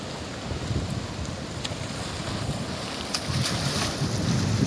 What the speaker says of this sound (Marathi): या साईडला समुद्र आहे हा बघा